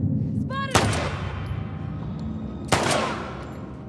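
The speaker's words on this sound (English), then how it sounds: "Can I shoot this person in the back with a silencer?" Two sharp, suppressed gunshots about two seconds apart from a silenced weapon in The Last of Us Part 2, each a hard crack with a short tail over steady game ambience.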